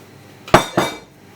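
Two quick, close clinks of dough being set into a buttered container, sharp knocks about a quarter second apart, then quiet.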